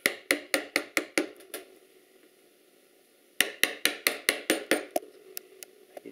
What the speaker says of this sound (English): these are a little bit narrower, but I can still use this chisel